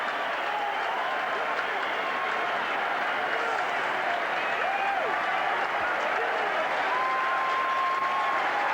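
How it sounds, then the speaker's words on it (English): A rugby crowd at Concord Oval gives a standing ovation, steady dense applause and cheering filling the whole stretch, with a commentator's voice over it. "they're getting a standing ovation at the moment from the Concord Oval crowd"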